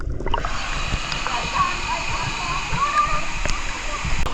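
Water at Tanauan Falls makes a steady broadband rush with sloshing and splashing, close and continuous throughout.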